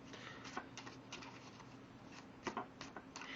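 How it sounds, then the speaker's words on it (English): A deck of playing cards being shuffled by hand for a card trick, soft riffling and patting bursts in a quiet room, close and faint with a few sharper snaps. "So the first thing you're going to do is shuffle the deck up."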